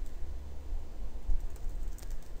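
Typing on a computer keyboard while writing a code comment in Java, a soft, steady patter of keystrokes heard close and alone over a low background hum.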